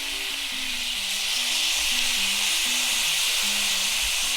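Chicken and a finishing sauce of rice wine vinegar, soy sauce and brown sugar sizzle steadily in a pan for Kung Pow chicken, cooked indoors; a constant hissing fry runs throughout, with a faint melody underneath.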